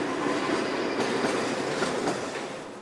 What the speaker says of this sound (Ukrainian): У червні цього року проспектом знову почали їздити трамваї.